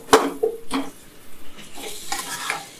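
Washed chicken goes into a hot frying pan for a chicken pepper fry and is stirred, giving brief scraping stirs and wet sizzling bursts, close and fairly loud.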